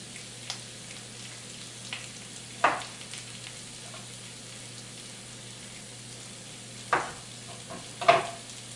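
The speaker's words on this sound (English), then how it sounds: "Take our onions. Throw those in there, let them cook up a little bit." Onions sizzle quietly in browning butter in a pan, a soft, steady crackle broken by a few brief louder pops or utensil taps.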